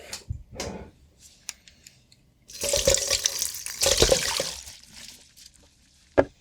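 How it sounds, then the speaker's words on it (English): Fermented Louisiana-style buffalo hot sauce brine being poured out, a bursty liquid splashing and trickling stream for a few seconds between quieter handling clicks and knocks. "So let's empty out the brine."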